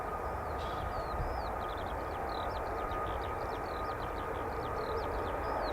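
Military jet aircraft engine roaring at RAF Marham as Hornets and F-35Bs depart, a loud, steady broadband rumble that holds for several seconds, with birdsong chirping faintly above it and no talking.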